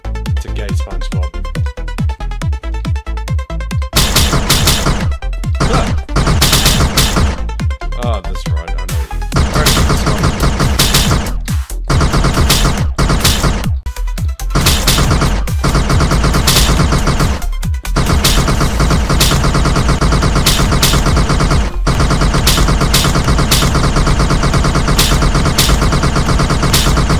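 Dense, sustained gunfire from a SpongeBob video game, with bursts of shots running almost continuously over loud backing audio. A voice talks through parts of it.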